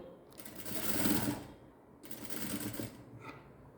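A sewing machine stitches piping on a blouse in two short, fairly quiet runs of rapid whirring, with a brief pause between them and a faint tap near the end.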